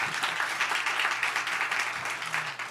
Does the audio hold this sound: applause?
yes